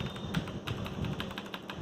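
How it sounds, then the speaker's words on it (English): Computer keyboard keys, including the space bar, pressed repeatedly in quick irregular taps, close and clear, with no talking. "my finger is on space bar"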